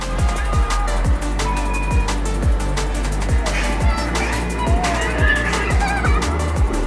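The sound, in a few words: busy street traffic in Sirkeci area, Istanbul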